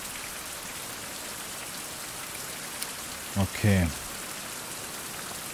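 Steady hiss of rainfall pattering across the whole clip in the video game Fountain of Youth, with a brief spoken word near the end.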